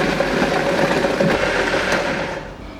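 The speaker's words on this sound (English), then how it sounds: "Then now I'm going to cover the blender and I'll start blending." An electric blender runs loud and steady at close range, whirring as it purées pepper sauce ingredients with garlic cloves and salt, and no one speaks.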